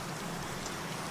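Rain falls steadily in Minecraft with a dense, even hiss and patter of drops, continuous and fairly loud, with no talk over it.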